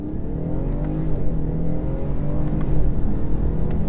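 A 2017 BMW 540i saloon accelerates hard on a wet road, its engine note rising in a loud, continuous drone heard from inside the cabin, with no speech.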